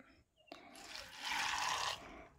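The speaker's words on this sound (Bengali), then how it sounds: "যেই বাটির মাপ করে মুড়ি নিয়েছিলাম ওই বাটির মাপ করে মিক্সিং বোলের মধ্যে আমি জলটা দিয়ে দেব।" Water poured from a bowl into a mixing bowl while preparing a quick puffed rice (muri) recipe, a steady close splashing pour lasting about a second and a half, with no talk over it.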